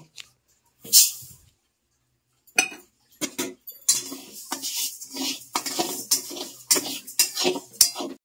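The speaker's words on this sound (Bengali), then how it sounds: "আমি মুগ ডালটাকে আগে ভেজে নেব।" Moong dal dry-roasting in a pan, stirred with a metal spoon: after a couple of isolated clinks, a run of rapid scraping and rattling strokes against the pan, close and fairly loud with no talking.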